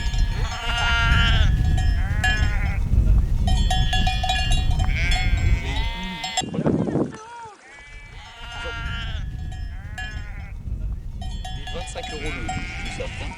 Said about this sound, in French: Pourquoi il était freaky comme ça le mouton?